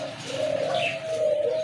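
Lahori pigeons cooing at a pigeon farm, one close, soft, steady coo drawn out over a second and a half with a faint chirp mixed in, no voices.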